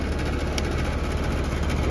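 An air conditioner's outdoor condenser unit hums steadily under service, a loud, continuous low motor drone with a broad whooshing fan airflow close by, unchanging throughout and free of speech.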